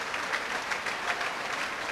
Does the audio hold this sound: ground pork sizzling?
no